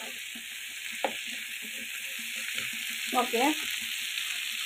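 Spices fry in a pan with a steady, even sizzle, broken by a couple of brief stirring scrapes and a short spoken word.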